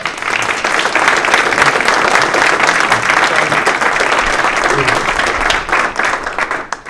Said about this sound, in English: So let's give them all one more round of applause.